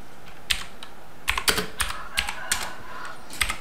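Keys tapped on a computer keyboard while tracing a vector drawing in CorelDRAW, a few scattered clicks then a quick cluster of strokes, close and fairly quiet against a low room hum, no talking.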